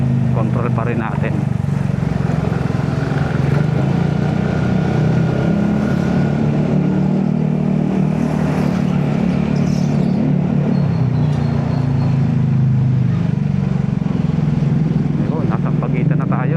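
Motorcycle engine droning steadily on an open road while overtaking trucks, a loud continuous low hum with wind rush, and someone talking over it throughout.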